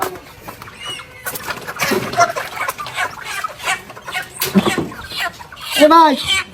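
A chicken at a market stall clucks in short bursts, with a louder cackle near the end, while people argue and talk close by the whole time.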